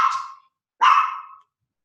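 A dog barks twice, with a short gap between the barks. The barks are moderately loud and close, and no one talks.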